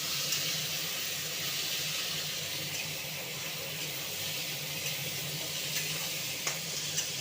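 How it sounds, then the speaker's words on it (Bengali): Onion, garlic, cloves, cinnamon and cardamom frying in oil for a meat dish, a steady soft sizzle and hiss that holds even throughout, with a few faint stirring clicks. "ভাজা ভাজা করে নিচ্ছি"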